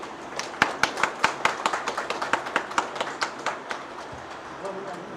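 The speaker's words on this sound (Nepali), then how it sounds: "कृपया तालीले हार्दिक स्वागत गरौँ सबैजनाले।" Audience clapping at a Nepali award ceremony and inauguration, a steady patter of many hands that swells briefly and then tapers off, moderately loud in a hall with no voices over it.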